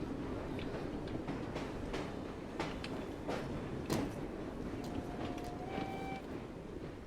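Train in the video game Assassin's Creed Syndicate rumbles along with rhythmic clattering and metallic clanks, a steady rolling drone with brief tonal squeals of wheels or brakes, heard fairly close.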